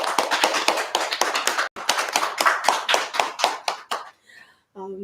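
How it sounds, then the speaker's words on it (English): An audience at a heritage management conference gives a round of applause, a few seconds of close, sharp, irregular clapping that thins out and ends, with a voice briefly at the close. "please give a very big round of applause to our wonderful program director"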